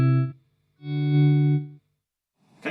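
Electric guitar notes swelled in through a volume pedal with delay and reverb, the attack removed: a short held tone, then a longer note fading in and out, and a faint rising noise at the end.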